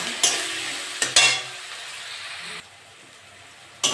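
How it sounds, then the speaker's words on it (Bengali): Ginger garlic paste fries with onion in a pan, giving a loud, close sizzle with sudden bursts as it is stirred, then dropping to a quieter hiss. "আদা রসুন দিয়ে একটু ভেজে নিয়েছি,"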